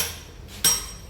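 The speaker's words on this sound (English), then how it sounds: "Carving by the precision hammer." Single sharp metallic tap of a precision hammer carving stone by hand, close and bright, standing alone over a faint steady background.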